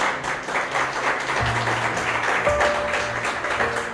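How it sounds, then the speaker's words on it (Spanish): A church congregation breaks into sustained applause, a dense wash of many hands clapping that swells and holds for several seconds, with faint voices and sustained tones mixed in. "Yo le daré un aplauso al Señor."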